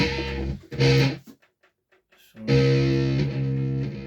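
A distorted electric guitar plays part of a song: two short, heavy chords, a near-silent gap with faint picked notes, then a long sustained chord ringing out loud and close.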